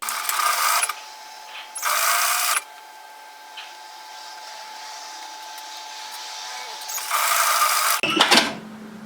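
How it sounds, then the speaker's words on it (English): A sewing machine stitches two apron pieces together along a strap in short loud bursts, three runs of rapid stitching separated by quieter pauses, with light handling noise between them. "Now we're going to sew those together at 1 centimetre, 3/8 of an inch."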